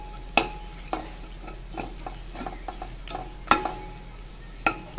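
Garlic-ginger spice masala for kadhi sautés in a pan, a soft steady sizzle broken by several crisp spatula knocks and scrapes at uneven intervals, near and alone.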